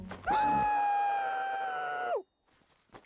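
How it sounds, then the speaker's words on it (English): A person lets out one long sustained scream lasting about two seconds, loud and steady before cutting off abruptly, followed by quiet. "I'm just gonna scream into this for a little bit"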